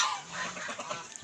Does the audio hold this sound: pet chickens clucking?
yes